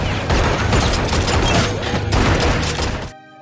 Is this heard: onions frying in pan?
no